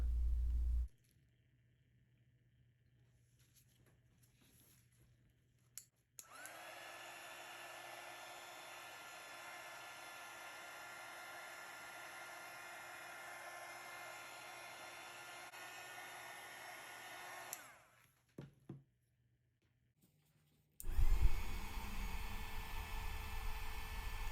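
A hot air blower runs steadily for about twelve seconds, drying alcohol inks and isopropyl alcohol on a tumbler, then restarts louder near the end after a short quiet gap.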